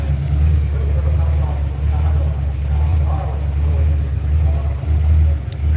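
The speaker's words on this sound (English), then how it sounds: "This is a 6-litre L77 with a 200 shot of NOS in it, I believe." A drag racing car with a 6-litre L77 engine and a 200 shot of NOS rumbles steadily at the track, a deep continuous engine drone with voices talking over it.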